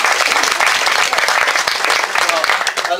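Applause from an audience at a hospital event fills the room with dense, loud, steady clapping from start to finish.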